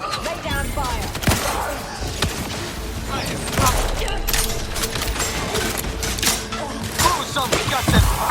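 Dense, crackling gunfire during a firefight in The Outer Worlds 2, a video game, with scattered sharp shots over a busy combat din and game music, steady and moderately loud.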